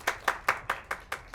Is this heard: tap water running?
no